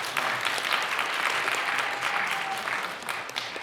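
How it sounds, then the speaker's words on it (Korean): Steady, dense applause from a church congregation rewarding someone who recited a scripture passage, loud and continuous throughout with no voices on top. "박수 한번 주세요"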